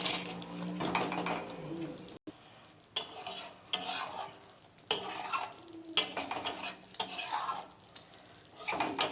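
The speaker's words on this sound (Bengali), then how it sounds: "আবার আমার গ্রেভি ফুটে উঠেছে, এবার আমি ভেজে রাখা কোপ্তাগুলো মিশিয়ে দেবো।" Fried chhena koftas are stirred into bubbling gravy in a pan, with scraping spoon strokes, clinks and a soft sizzle coming in bursts separated by short pauses.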